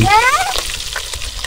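Bacon sizzling and crackling in a hot pan while camping, a steady close frying hiss with a brief high tone at the start.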